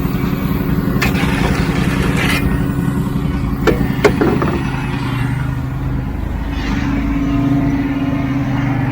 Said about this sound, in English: if you listen as he's filling it, you can hear it rattling in the truck